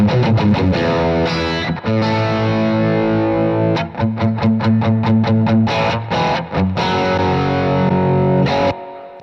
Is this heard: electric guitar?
yes